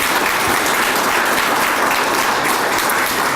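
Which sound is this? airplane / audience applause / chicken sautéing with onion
audience applause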